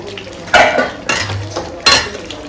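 Chicken meat is stirred into fried spices in a cooking pan, with a few distinct scraping clatters of a spoon against the metal over a faint sizzle, close by.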